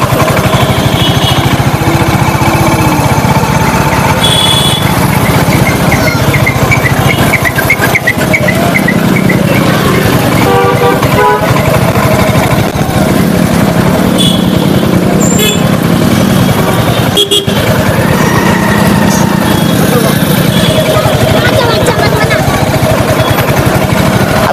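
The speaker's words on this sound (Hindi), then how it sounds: "किस तरीके से गाज़ियाबाद की ट्रैफिक वाली गलियों में इस बाइक को चलाने में मुझे कोई दिक्कत नहीं हो रही है" A Royal Enfield Hunter 350 motorcycle rides through busy city traffic lanes in Ghaziabad, its loud, steady engine drone continuous with horns and passing vehicles around it, while a rider talks over it.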